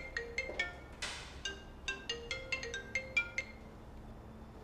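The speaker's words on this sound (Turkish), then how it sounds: "Çalan cebi değil, dahili telefon." An internal landline desk telephone in an office rings with repeated electronic tones, a steady sequence of bright chirping pulses in a quiet room.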